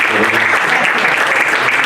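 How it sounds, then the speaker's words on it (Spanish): Church congregation applauding during a Spanish-language Sunday service, a steady wash of clapping filling the room for a couple of seconds with no break. "usted dele palmas al Creador porque Él vive"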